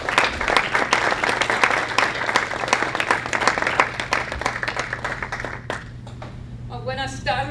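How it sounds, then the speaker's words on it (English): Applause from an audience welcoming a guest speaker at a talk on multicultural issues: dense, steady clapping for about six seconds that fades out, followed by a voice starting to speak. "give her a round of applause and a warm welcome from the table"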